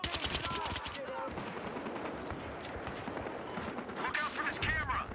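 Faint, rapid gunfire from multiplayer Battlefield Hardline on PS4 patters in quick bursts, with a few sharper shots standing out over a low, busy game background.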